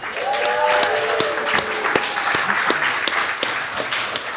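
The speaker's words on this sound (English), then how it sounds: "can we get a round of applause for her?" Applause from a live audience at a brewery show, honoring the host's daughter who is graduating from Central Catholic, steady clapping through the whole stretch with a voice briefly audible over it early on.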